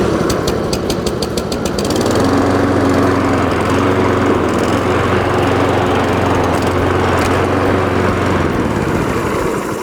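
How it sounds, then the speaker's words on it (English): A Cobra MX534SPCE petrol rotary lawn mower with electric start, new and being run for the first time, clatters briefly as it starts, then settles into a loud, steady engine drone that carries on close by with no talk. "It's the first time this mower's been started."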